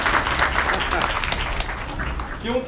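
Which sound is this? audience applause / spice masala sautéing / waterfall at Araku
audience applause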